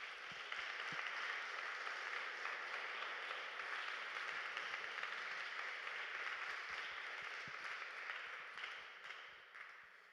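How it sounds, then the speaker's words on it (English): A conference audience applauds whistleblowers at an event on the drone war's impact on civilians, with dense, steady clapping that fills the room for about ten seconds and fades slightly at the end. "let's make this applause"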